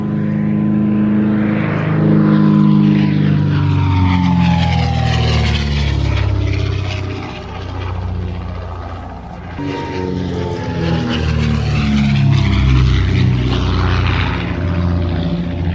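A vintage propeller plane from the Shuttleworth Collection roars overhead, its engine pitch sliding down as it passes, fading slightly, then another loud pass follows.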